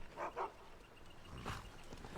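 A dog in the video game Skyrim, near the Riverwood Trader, giving two quick soft barks followed by a fainter yip, quiet and brief with no talk over it.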